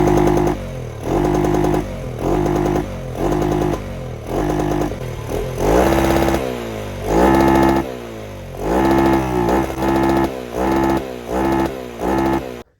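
A motorcycle with an aftermarket intake runs and revs in repeated bursts, the intake roar loud and close, rising and falling in pitch with short pauses between pulls.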